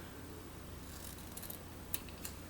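Scissors snip fabric while trimming the edge of a zippered cover for an inexpensive down pillow, giving a few faint, brief cuts, with two sharper snips near the end over a quiet room hum.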